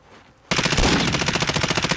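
Rapid automatic gunfire in the video game Modern Warfare, one loud, sustained burst of evenly spaced shots that starts abruptly and runs to the end, with no talking.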